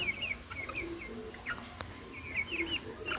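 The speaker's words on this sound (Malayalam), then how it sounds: "ഇങ്ങനെയുള്ള ബ്രഹ്മക്കോഴീൻ്റെ കുട്ടികളാണ്" Brahma chicken chicks chirp softly in a quick series of high, thin peeps, scattered and repeating throughout with no voices.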